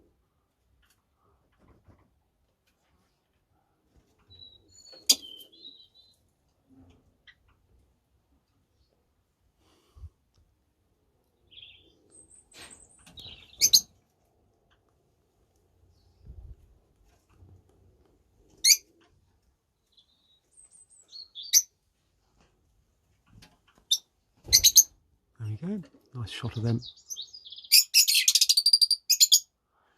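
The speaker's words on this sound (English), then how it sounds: "they do a lot of chirping and tweeting to each other" Scattered high chirps and tweets from small birds, brief and intermittent, with a busier burst of calls near the end and a short spoken remark midway.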